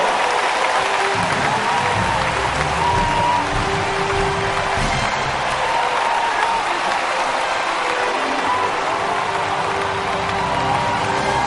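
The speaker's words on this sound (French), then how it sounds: "Bien-aimé, acclamez très fort pour Sophie Clément." Sustained applause and cheering from a church congregation celebrating Sophie Clément at a miracle service in DR Congo, a dense, steady roar of clapping and voices that fills the space without pause.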